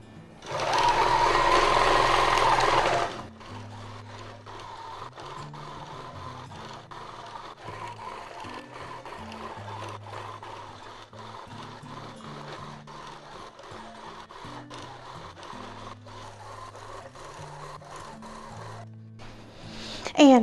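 A Handi Quilter Moxie XL longarm quilting machine with Pro-Stitcher Lite stitching an edge-to-edge design on a small project: a brief loud whir, then a long steady run of rapid mechanical stitching with shifting motor pitch.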